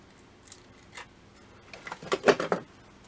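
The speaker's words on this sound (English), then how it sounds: "Where's my scissors? There they are." A few quiet snips and clicks of scissors, scattered at first, then a quicker cluster of metallic cuts toward the end.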